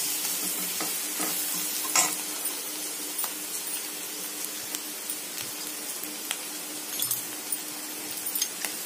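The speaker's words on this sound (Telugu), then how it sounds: "కొంచెం గోల్డెన్ బ్రౌన్ వచ్చే వరకు మనం కొంచెం మంచిగా ఆనియన్స్ని ఉడికించుకోవాలి." Onions with chilli powder and salt fry in a pan toward golden brown, a continuous soft sizzle punctuated by frequent light clinks and scrapes of a stirring spoon, close and unaccompanied by speech.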